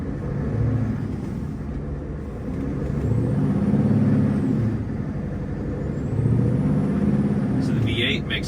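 Scania 770S V8 semi truck pulling at full power, a deep engine drone that swells in waves as it climbs through the gears, with a faint rising whine above it.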